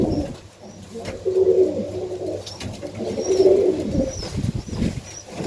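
Tippler pigeons coo indoors in a loft, low throaty rolling calls repeating in soft bursts, with a little wing movement and faint background noise.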